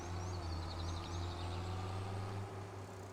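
Tractor engine in Farming Simulator 25, running steadily with a low droning hum throughout, fairly loud and alone, with a few faint higher chirps above it.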